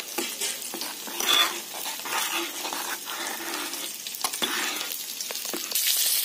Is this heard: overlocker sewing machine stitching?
no